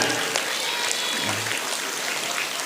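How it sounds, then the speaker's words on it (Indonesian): An audience applauds during a school foundation chairman's address: an even, sustained rattle of clapping from a seated crowd, filling the room at moderate volume without pause. "Tepuk tangan"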